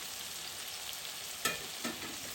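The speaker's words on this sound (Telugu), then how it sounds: "ఆయిల్ సపరేట్ అంటే మంచిగా వేగుతుంది" Pieces of country chicken curry fry in separating oil, a steady soft sizzle running throughout with two brief louder spits or stirs near the end.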